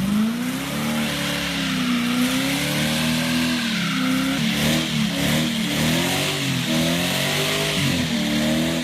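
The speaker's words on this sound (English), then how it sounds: "the kid doing burnouts?" Car engine revving hard during a burnout driven by a kid, a loud wavering drone rising and falling in repeated surges with a faint squeal of tires, no talk.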